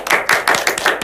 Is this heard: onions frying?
no